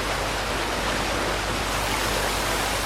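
A waterfall in Super Mario Odyssey rushes as a constant, dense broadband roar, loud and unbroken throughout, with nothing else audible.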